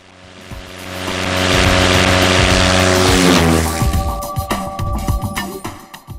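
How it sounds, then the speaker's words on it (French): A tow plane's propeller engine drones loudly and steadily while pulling a glider aloft over mountains, swelling to a roar then giving way to rattling, clattering mechanical bursts; no voices. "Et l'avion remorqueur réanime de son souffle puissant le planeur qu'on lui a confié"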